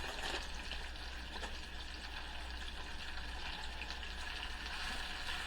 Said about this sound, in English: We're gonna add all of these baby spinach to the pan.